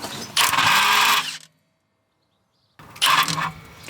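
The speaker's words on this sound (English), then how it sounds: "We're going to use a 19mm socket to remove this bolt, and hopefully it's not seized." A 19mm socket on a ratchet or power tool working a rusty rear suspension bolt on a Lexus IS300, with two loud buzzing bursts of about a second each separated by silence, close up.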